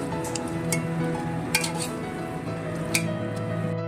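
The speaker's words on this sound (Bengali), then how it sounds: "খুব ভালো করে মাংসটা কষিয়ে নিতে হবে।" Meat with ginger and garlic paste is stirred in a pot, giving a continuous low sizzle under repeated sharp clinks of a spoon scraping and tapping the metal.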